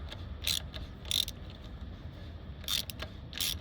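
A tire plug being tightened into the tire of a 2003 Ford Lightning SVT pickup, with four short ratcheting clicks spaced apart over a low background hum.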